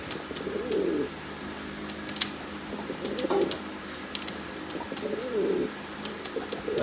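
A pigeon coos nearby in soft, throaty bursts, three rounds spaced a couple of seconds apart, over a faint background hum.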